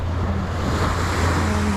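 Surf rolls in on a white-sand Key Biscayne beach scattered with seaweed, a continuous broad wash of waves with a low rumble underneath, steady and fairly loud with no talk.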